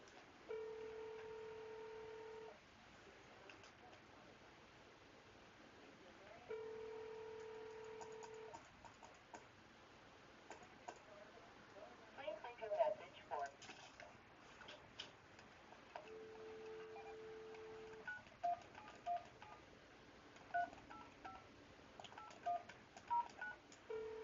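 A phone call to an insurance client rings out several times, each burst of repeated ring tones separated by pauses, faint and alone with small clicks and handling noises between rings.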